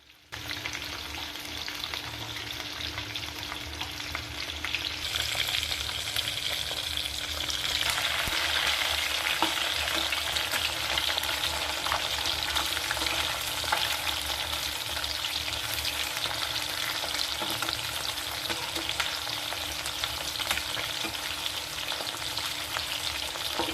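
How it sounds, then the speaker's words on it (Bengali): Pieces of shankar fish (stingray) fry in a pan with a loud, continuous crackling sizzle that holds steady for over twenty seconds, with occasional stirring and no talking. "মাছটা বেশি ভালো করে ভাজবো না কারণ এই মাছ একটু শক্ত হয়"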